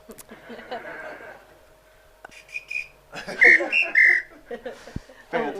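A few short, bright whistle blasts from a drummer counting in a band at a live gig ring out in quick succession amid background talk and room noise.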